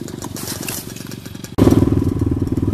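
A 250cc motocross dirt bike engine runs close by with a rapid, throbbing idle, then jumps abruptly to a louder, harder-revving pulse midway through.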